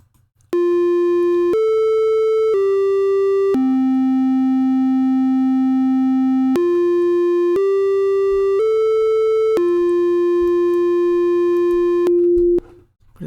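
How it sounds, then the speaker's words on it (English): A synthesizer plays a sustained, smooth triangle-wave tone stepping through a simple melody of held notes, with a soft low buzz underneath. "Triangular wave is a bit more pleasant."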